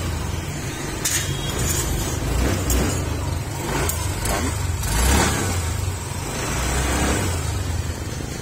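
A Honda Vario 150 scooter engine runs steadily after being started, converted from smart key to a mechanical key lock, giving a continuous low rumble with a few sharper clicks and knocks over it and no talking.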